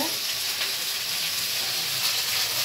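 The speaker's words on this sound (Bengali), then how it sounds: "এই যে দেখুন, এখানে আলু আর কপি ভেজে নিচ্ছি, ভালো করে ভেজে নিতে হবে।" Potatoes and cauliflower fry in a pan with a steady, close hiss that holds the same level throughout, with no talk over it.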